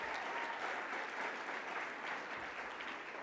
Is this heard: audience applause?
yes